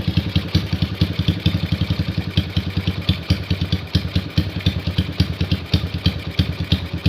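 A motorcycle engine idles close by during a carburetor check, a loud, steady, rhythmic putter of regular thumping pulses throughout, with no talk.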